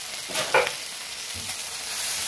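A chilli mayonnaise sauce for chicken Manchurian sizzles softly in a pan, with a short burst of stirring scrapes near the middle and a steady hiss throughout.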